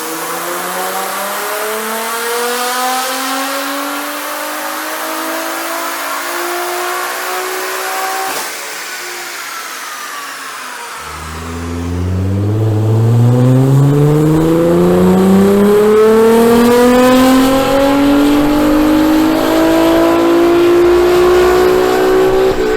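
A Lamborghini Huracan with a titanium exhaust revs hard on a dyno, its engine note sweeping steadily upward through a long pull, then dropping briefly before climbing again to a loud, close high-rpm wail.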